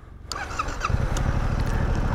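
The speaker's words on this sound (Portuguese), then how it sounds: "Vamos ligar a moto." A motorcycle is started, with a brief starter whir followed by the engine catching and settling into a steady, rumbling idle, close and loud.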